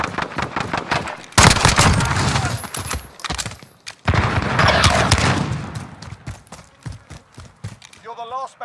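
Gunfire in a Call of Duty Modern Warfare 2v2 gunfight match, loud bursts of rapid shots in two long volleys with short gaps, alongside game sounds.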